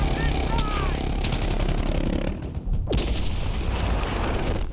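A heavy, hard-kicking gun fires in the Battlefield 5 video game, dense booming bursts and rattling shots dominating close and loud, with a brief dip before firing resumes; a voice talks underneath.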